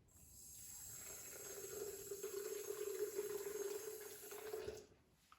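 Water poured into a homemade hummus mixture, a faint steady trickle with a rising fill tone lasting several seconds before stopping abruptly.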